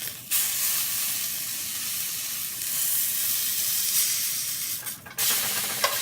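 Steak edges sear in a hot pan with a steady, loud sizzle and hiss. The sound runs continuously, with a brief dip near the end before the frying noise returns.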